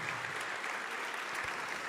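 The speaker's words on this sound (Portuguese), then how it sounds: "Vamos aplaudir ao Senhor Jesus" Church congregation applauding during a Portuguese-language sermon, a dense, even wash of many hands clapping that holds steady for about two seconds with no voices on top.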